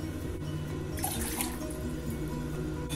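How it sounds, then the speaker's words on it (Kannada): Two cups of water pour into a pot for making sorghum flatbread dough, a steady close splashing stream running throughout without any voices. "2 ಕಪ್ ನೀರು ಹಾಕ್ಕೊಳ್ತಾ ಇದ್ದೀನಿ."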